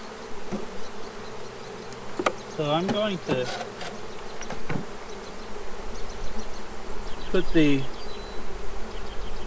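Old World honeybees buzz close by in a steady drone around hive frames, with a few louder buzzes passing near the microphone and a brief bit of speech.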